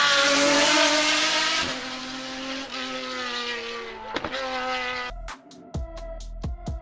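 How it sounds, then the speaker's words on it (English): A race car powered by an AMG 6-liter V12 engine of 800 horsepower screams past with a loud, high-pitched wail that fades, followed by sharp gear-shift blips and revs, with no talking. "Powered by an AMG 6-liter V12 engine developing 800 horsepower and only weighs 1070 kilograms."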